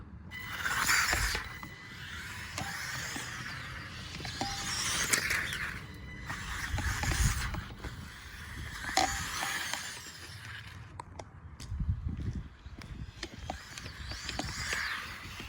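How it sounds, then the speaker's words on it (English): Modded Losi Micro B RC car with metal gears, whining and grinding as it drives on a road, the pitch rising and falling with speed in repeated surges, fairly quiet and close, no talking. "Definitely hear those metal gears."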